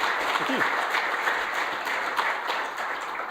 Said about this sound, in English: can we please have a round of applause for Kane?